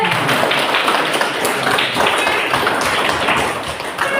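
Students clap for a group presentation in a classroom, a dense, loud patter of hands with thumping taps mixed in, steady for about four seconds.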